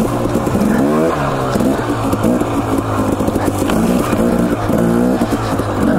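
A Suzuki DRZ 400 dirt bike ridden on a wet Idaho single track, its engine loud and close with a continuous rough drone that rises and falls in pitch as the throttle opens and closes.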